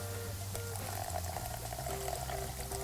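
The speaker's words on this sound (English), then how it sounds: "Let's take a touch of water. We'll throw that in." Water poured from a container into a chipotle sauce on a Blackstone griddle, a steady close splashing and trickling pour lasting a few seconds over constant griddle sizzle and hum.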